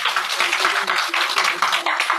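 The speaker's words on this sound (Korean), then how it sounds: "우리 마리아 대사님께 한번 박수 부탁드리겠습니다" Audience applause for a visiting ambassador after her lecture at a global citizenship colloquium: a dense, steady wash of many hands clapping, with louder swells and no pauses, and some voices mixed in.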